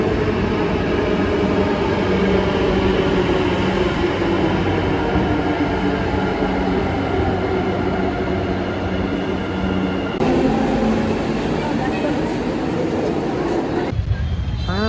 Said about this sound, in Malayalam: അപ്പോൾ മെട്രോ സ്റ്റേഷനിലാണ് ഇപ്പോൾ ഉള്ളത്.